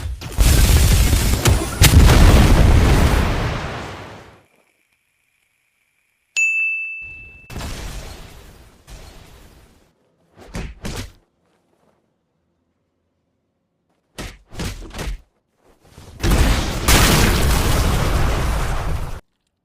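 Combat moves from the Strongest Battleground video game, machine gun blows and shove, land as heavy broadband bursts of impact and gunfire-like booms, separated by gaps, a sharp ding and short clicks, with no talk.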